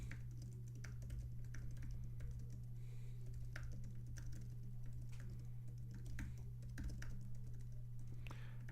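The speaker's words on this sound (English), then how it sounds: "I'm typing to you." Steady computer-keyboard typing in irregular bursts of clicks over a constant low hum during a live stream, close and fairly quiet, with no speech.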